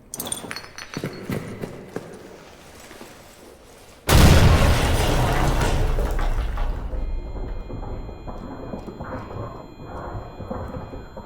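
A grenade blast in the horror video game Amnesia: The Bunker: quiet rustling and footsteps, then a sudden loud explosion with a deep low boom that rolls on and slowly decays into rumbling debris and ringing tones.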